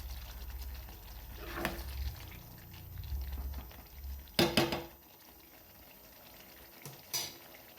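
A spiced eggplant (brinjal) curry stirred in a pan, with a low, bubbling rumble for the first few seconds, then a few sharp scraping clatters of the spoon against the pan, spaced apart.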